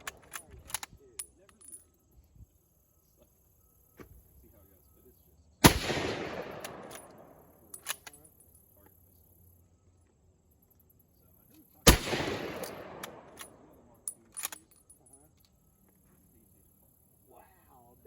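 A rifle fitted with a bayonet fires at an outdoor shooting range: two loud, sharp shots about six seconds apart, each trailing a long rolling echo, with small clicks and handling noises between them.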